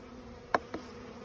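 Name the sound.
honey bees buzzing at hive entrance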